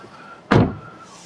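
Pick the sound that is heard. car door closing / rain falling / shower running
car door closing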